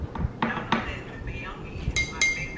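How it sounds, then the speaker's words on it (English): Glass drinking straws clink and tap together in a few sharp, bright bursts as they are handled close by, over a low background rumble. "I can't believe they have freaking glass straws"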